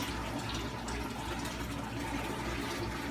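Fresh salt water pours from a hose into an aquarium, a steady, broad rushing splash with constant bubbling that does not change, moderately quiet and alone.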